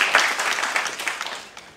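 An audience claps for a little boy, a brisk burst of hand claps that starts loud and gradually tapers off.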